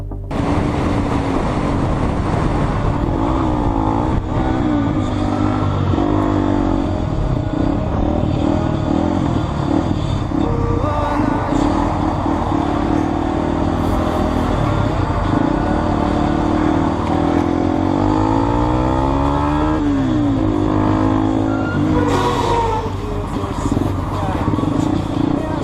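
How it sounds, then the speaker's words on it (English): A car chasing a motorcycle along a road, with loud, continuous engine roar and rising and falling revving as both vehicles race, a dense mechanical drone throughout. "The motorcyclist speeds away, but the man in the car follows."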